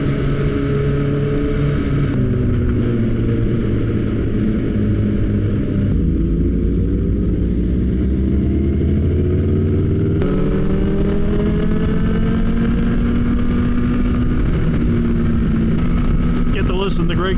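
Someone's noisy BMW motorcycle engine runs loud and close throughout, its pitch rising and falling with throttle changes and gear shifts, steady and continuous with a voice heard over it.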